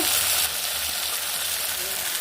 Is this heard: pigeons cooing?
no